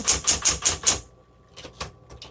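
A 1960s Smith Corona Coronet electric typewriter is typed on: five quick, crisp, evenly spaced keystrokes close up, then several softer, sparser clacks and a faint motor hum.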